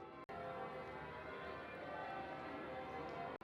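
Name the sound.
church bells ringing in a small UK city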